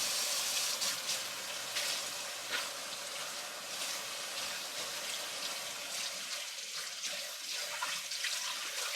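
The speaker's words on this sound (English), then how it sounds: "wash my hands again and again and again." Tap water runs steadily into a sink while hands are washed during beef jerky preparation, a continuous close splashing hiss with small shifts as the hands move under the stream.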